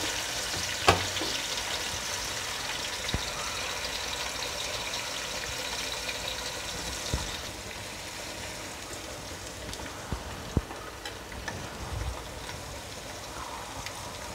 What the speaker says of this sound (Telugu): ఉల్లిపాయలు చక్కగా వేగుతాము.